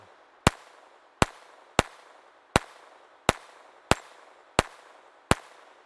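Eight sharp, evenly spaced shots from a Walther P22 pistol fired at a steel dueling tree target outdoors, each crack loud and close with a short ringing tail.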